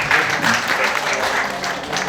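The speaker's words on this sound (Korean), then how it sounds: "우리 모두 서로를 향해서 감사 또 격려의 박수 한번 보냅시다" Attendees at a church prayer meeting, a thanksgiving night at the 150th national prayer gathering, applaud together in a steady, dense wash of clapping that fills the room without pause.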